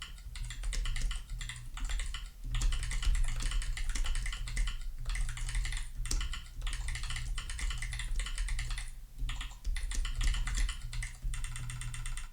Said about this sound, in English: Let me just show you my screen, and I'm going to start typing, and you're going to hear it.